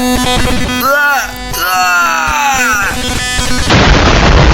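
Minecraft TNT explodes amid a chaotic, dense game soundscape, with layered tones and rising whistles giving way to a loud, noisy burst near the end.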